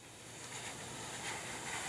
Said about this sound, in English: He's using a Canine 2 dryer from Electric Cleaner Company